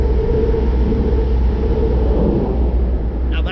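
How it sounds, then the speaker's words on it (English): Passing train near an old ironstone quarry, a loud steady rumble and rolling drone throughout, close and continuous, with no voices. "Train!"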